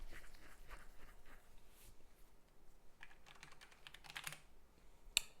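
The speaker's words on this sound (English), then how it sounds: "as I'm typing that" Soft bursts of typing on a computer keyboard, quiet and close, with clusters of key clicks separated by short pauses.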